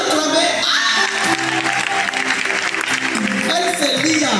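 An audience applauds steadily at a lively event, sustained clapping and crowd noise filling the whole stretch while a voice talks over it.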